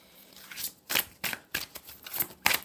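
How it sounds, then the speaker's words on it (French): Cards are drawn from an oracle card deck, giving a series of about seven quick, close papery riffles and snaps at an irregular rhythm, with no talking. "Je vais tirer avec l'archange Michael une carte conseil"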